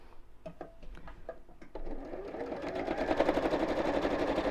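A domestic sewing machine stitches a wide zigzag through fabric, starting with a few quiet clicks and taps, then settling into a fast, rhythmic mechanical whir that grows steadily louder.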